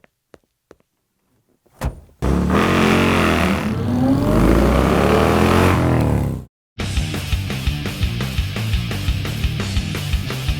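Bagger motorcycle engines roar loudly and continuously, a few faint clicks first, then sustained revving with a brief cut before another engine resumes with rapid rhythmic pulsing.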